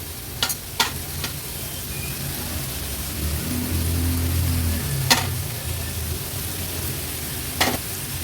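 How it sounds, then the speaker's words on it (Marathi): Grated cabbage for a Maharashtrian Agri-Koli style vegetable dish is stirred in a pan, with a soft steady sizzle under a few sharp clinks of a spoon against the metal. "आता व्यवस्थित ही भाजी आपल्याला मिक्स करून घ्यायची आहे"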